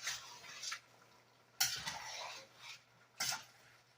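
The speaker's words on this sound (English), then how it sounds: "I'm just going to keep on stirring it." Beef stew being stirred in a pot in a home kitchen, with three separate bursts of utensil scraping and clinking against the pot, a faint steady hum underneath, and no talking.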